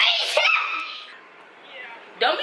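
A single short sneeze bursts out near the start, set within a lively, close-miked exchange of voices, with a second sharp burst at the end.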